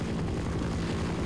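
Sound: helicopters flying overhead in video game Half-Life: Decay

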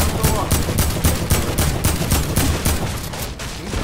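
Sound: gunfire in a shooting video game

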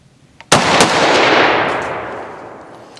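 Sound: Century Arms C308 7.62x51mm semi-automatic rifle gunshots

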